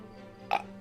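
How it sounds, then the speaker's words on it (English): A single short, faint burp from a person, a brief low croak against a quiet background. "I'm being attacked by burps"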